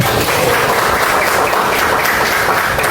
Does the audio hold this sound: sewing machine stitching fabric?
no